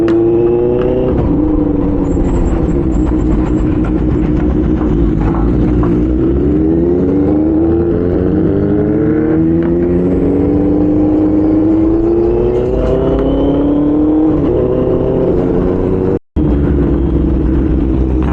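A superbike engine in Pune revs hard and speeds away: a loud, close roar with repeated rising and falling pitch sweeps as it accelerates, steady throughout apart from a brief dropout near the end.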